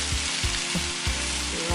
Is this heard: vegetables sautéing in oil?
yes